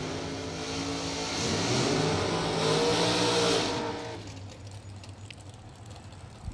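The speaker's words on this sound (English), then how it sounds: "He's going to come back around and race Nick Hastings." Drag race cars roaring off the line at a bracket racing event, a loud sustained engine blast that swells and peaks before cutting away to quieter crowd and track ambience.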